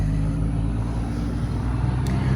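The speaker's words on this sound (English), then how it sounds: "there's loud trucks going by, because you know, traffic" Heavy trucks rumble past on a nearby road, a steady low, loud traffic drone that fills the whole stretch with no break and no talk over it.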